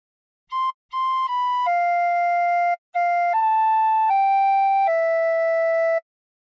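A tin whistle plays a phrase of the hymn How Great Thou Art, clear sustained notes in a simple melody, a short first note and a brief gap partway through, played solo with no other sound.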